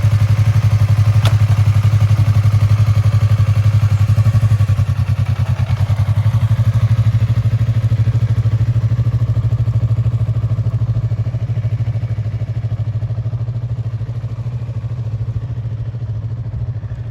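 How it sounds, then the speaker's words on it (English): A motorcycle ridden slowly through tight turns while the rider feathers the clutch gives a steady, loud low engine drone that stays close throughout and eases off slightly toward the end, with a brief clatter near the start. "she's going to feather the clutch, give it a little bit of gas, keep on the gas, feather it"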